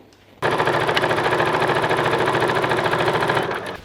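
A sewing machine stitches a clothing seam about 2.5 centimetres from the cut, starting abruptly and running in a fast, loud, even mechanical chatter for about three seconds before slowing to a stop.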